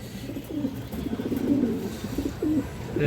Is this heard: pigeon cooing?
yes